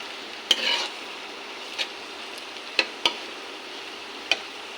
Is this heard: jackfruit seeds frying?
yes